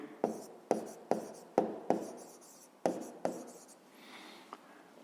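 Pen writing on paper during a fifth-grade maths exercise, a run of sharp taps and scratchy strokes in uneven rhythm, close and fairly quiet, ending in a softer rub.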